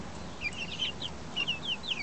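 Chickens clucking softly in short, repeated bursts against a quiet background, fairly faint and without any talking.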